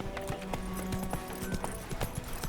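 In The Witcher game, the horse Roach trots with quick, rhythmic hoof clops on hard ground, fairly faint, with a low hum in the background.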